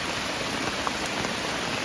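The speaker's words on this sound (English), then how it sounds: "I'm gonna be quiet just so you can hear the rain" Rain falls on a wooded campsite in a state park as a steady, fairly loud hiss of drops with a few sharper single patters, heard alone with no talk.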